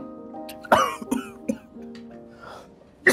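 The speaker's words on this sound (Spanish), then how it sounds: "Esa tos ya no es normal." A man in a drama coughs hard in several rough, irregular bursts, close and loud, with brief throat-clearing between them.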